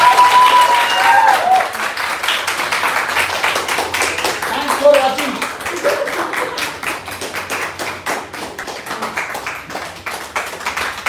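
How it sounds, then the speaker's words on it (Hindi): Loud applause and clapping from an audience at a live acting class in an actor studio, sustained dense hand claps with a faint voice near the start. "जोरदार तालियां उनके लिए"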